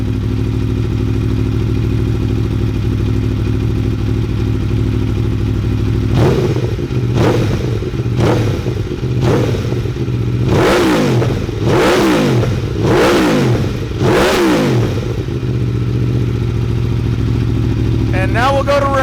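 A 2018 Aprilia Tuono Factory motorcycle fitted with an Akrapovic exhaust revs hard in a series of about six sharp throttle blips over a steady loud idle, close to the microphone.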